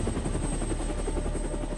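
A helicopter flies close by with a steady, loud rotor chop and engine whine throughout, the wind-blown hum unbroken and no voices present.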